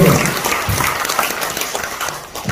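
Audience applause at a Korean political speech rally, a dense steady wash of clapping from a crowd, fairly loud and sustained throughout with no talk over it.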